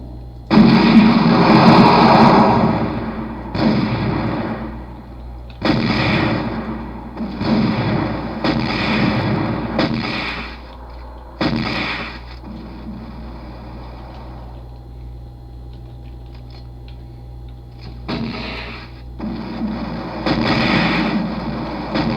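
Minigun fire in the video game Muffin Kombat Rewritten comes in loud, sustained bursts separated by short pauses, with a few gaps of quieter game noise and no talk over the shooting.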